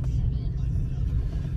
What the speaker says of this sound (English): Alright, so driving the Lincoln Town Car 2005.